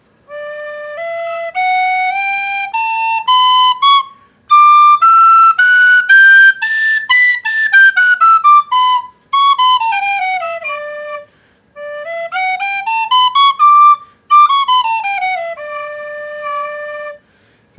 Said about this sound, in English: You can play it in two octaves.